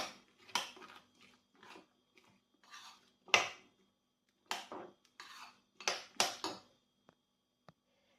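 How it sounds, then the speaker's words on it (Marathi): A spoon clinks and scrapes against a bowl while apple pieces, nuts and seeds are stirred together, producing irregular close clatters with brief pauses between strokes. "ते पूर्ण मिक्स करायचं."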